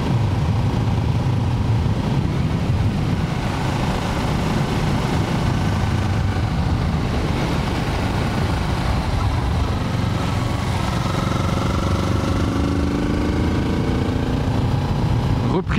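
A car engine accelerates in fifth gear: a continuous mid-low drone with road noise, steady and close from inside the cabin, rising gradually in pitch toward the end.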